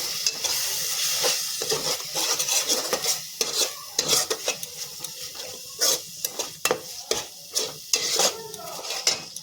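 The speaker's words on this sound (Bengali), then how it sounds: "একটু সামান্য আমি জল অ্যাড করছি, মশলাটা যাতে পুড়ে না যায়।" A spoon stirs and scrapes thick masala in a pan with a little water added, giving repeated irregular clinks and scrapes over a soft sizzle, close and clear with no talk.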